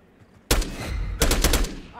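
Automatic gunfire in Call of Duty Black Ops 6 starts abruptly after a quiet moment, one loud sustained burst followed by a second rapid burst of close shots.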